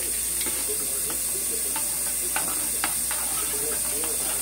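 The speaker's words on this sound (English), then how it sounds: "Like so, and we gonna stir" A utensil stirs pan sauce for smothered pork chops with smoked sausage, scraping the bottom under a loud, constant sizzle and hiss of liquid hitting the hot pan, close by, with a voice speaking over it.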